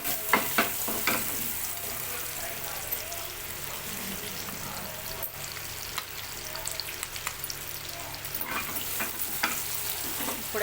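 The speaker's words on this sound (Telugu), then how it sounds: "కొంచెం ఇట్లా కలర్ చేంజ్ అయ్యే వరకు అయితే ఫ్రై చేసుకోవాలి." Eggs frying in a kadai after salt and chili powder are added, a dense crackling sizzle broken by sharp scraping stirs and clinks from the spoon, close and steady.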